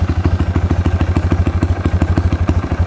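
A Honda Wave 125 race motorcycle engine with its exhaust, raced at more than ten events, runs loud and close with a fast, lumpy, evenly pulsing thump throughout.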